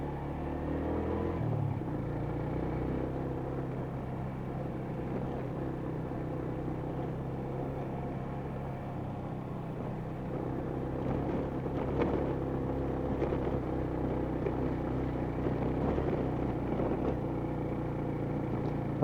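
A motorcycle with a worn, slipping clutch rides over rough, broken off-road roads near Monte Maria in Batangas, giving a continuous engine drone with bumps and rattles and no talking.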